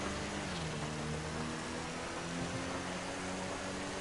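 Steady, dense rain hiss in the GTA Online racing game, a continuous wash of falling water with a low car engine drone running underneath, no voices.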